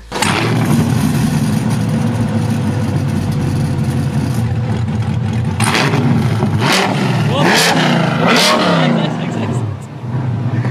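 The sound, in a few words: supercar exhaust revving during soundcheck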